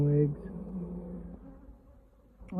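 A soft honey bee buzz hums close by in a poly hive box, droning unevenly over a quiet background, with a brief louder burst near the end.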